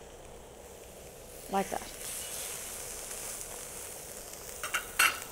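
Steak and mushrooms sizzling on a BORA cooktop, a steady frying hiss with a few utensil clicks, while a person speaks briefly.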